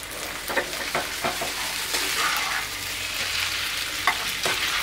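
Chow mein noodles sizzle in a hot pan while being tossed and mixed, a steady loud frying hiss broken by several scraping, clacking stirs of a ladle against the metal.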